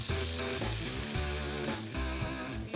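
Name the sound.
burger patties sizzling on a hot cast iron skillet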